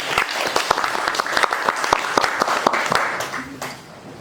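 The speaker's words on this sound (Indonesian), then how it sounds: "Kita berikan apresiasi tepuk tangan yang sangat meriah sekali teman-teman." Workshop attendees give a speaker a round of applause, steady overlapping hand claps filling the room fairly close, with a voice faintly underneath.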